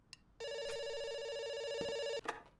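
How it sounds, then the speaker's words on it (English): A steady electronic telephone ring from the video game Dr. Langeskov, one long unbroken buzzing tone lasting nearly two seconds, loud and clear, framed by brief soft clicks before and after. "it's ringing."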